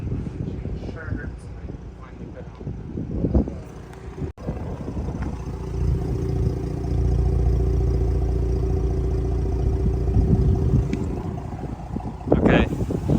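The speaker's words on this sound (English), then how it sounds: "the S4 has been idling for a few minutes now" An Audi S4 idles steadily with a low, even engine hum, wind buffeting the microphone and brief bumps of handling noise at start and end.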